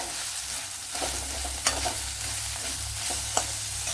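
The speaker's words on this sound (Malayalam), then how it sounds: "ഇവിടെ ഇപ്പോൾ നല്ലതുപോലെ ഫ്രൈ ആയി വന്നിട്ടുണ്ട് കണ്ടല്ലേ അതിനി ഉള്ളിയൊക്കെ ഒന്ന് ഉടച്ചു കൊടുക്കുക ഇതുപോലെ" Fried small onions mashed and stirred in a pan, with a constant close sizzle broken by a few sharp scraping knocks of the spoon against the pan; nobody speaks.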